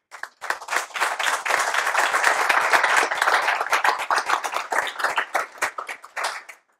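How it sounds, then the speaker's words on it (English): An audience at an Atlassian user group meetup in Cologne applauds, with dense clapping that starts sharply, holds steady for several seconds and thins out toward the end. "I wanted to give you a little bit of applause"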